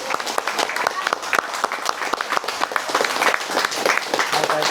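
A small group at a home gathering claps loudly for someone, with steady dense applause and voices over it.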